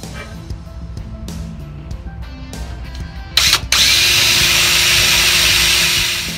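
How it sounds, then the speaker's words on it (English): A power drill bores pilot holes in a metal vehicle frame while fitting a Greyhawk Ultraguard mudflap, with a few short bursts and then a loud, sustained whine close by. "So I'm going to drill some pilot holes first."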